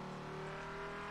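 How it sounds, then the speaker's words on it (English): Race car engine in the video game Auto Club Revolution, a steady, loud sustained drone with strong harmonic tones held throughout a short stretch, no talking. "So engine sound, I do love the engine sound"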